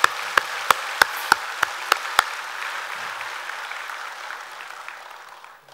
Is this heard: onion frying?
no